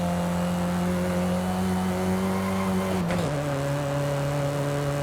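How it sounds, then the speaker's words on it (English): A turbocharged car in the Forza Horizon 5 racing game drones at steady revs, then the pitch drops sharply with a gear shift before the engine settles back into a continuous hum. "You can hear that turbo spooling up as well."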